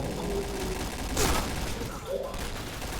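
Video game gunfire comes as a brief burst of shots under continuous excited talk, with a steady game background.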